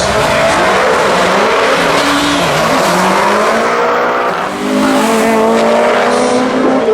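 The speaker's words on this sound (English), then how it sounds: "on the brakes going through the finish line" Drag racing cars braking through the finish line at a no-prep quarter-mile shootout at Manston Raceway, loud throughout with engine roar and tire noise sustained over the whole stretch, no talk.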